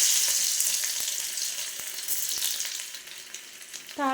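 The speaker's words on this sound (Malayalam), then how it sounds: "കൈ കൊണ്ട് നിരടിയിട്ട് അതുകൂടി ഇതിനകത്തിട്ടിടുക." Crushed shallots hit hot coconut oil with fenugreek in a clay pot for a Kerala fish curry, a loud, dense sizzle with light stirring clicks that slowly fades.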